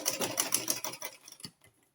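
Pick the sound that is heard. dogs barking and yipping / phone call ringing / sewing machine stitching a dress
sewing machine stitching a dress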